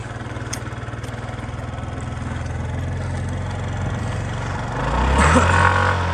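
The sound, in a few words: motorcycle engine idling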